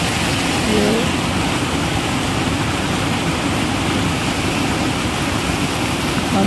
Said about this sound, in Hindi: ये पानी भर रहे हैं